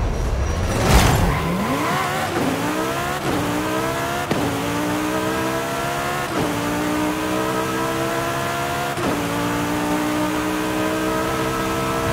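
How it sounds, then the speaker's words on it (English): A 2007 Ferrari 430 Scuderia engine in Forza Horizon 5 revs hard and loud, climbing through repeated gear shifts with sharp drops between each upshift, plus a brief tire squeal at the start. "2007 Ferrari 430 Scudé"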